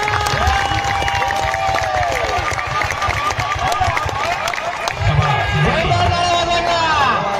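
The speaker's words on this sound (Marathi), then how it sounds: "हॅलो, जोरदार टाळ्या वाजवा एकदा" A loud crowd fills the air with sustained applause and cheering at a contest between Raja and Master, a dense wall of clapping and voices holding steady throughout.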